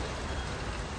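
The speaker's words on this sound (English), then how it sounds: "And it started raining." Soft, steady rain hisses evenly, a dense wash of fine patter at low volume with no other sounds.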